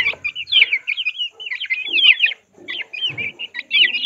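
A female Aseel chicken clucks and chirps close by in rapid, choppy bursts, with a short pause midway.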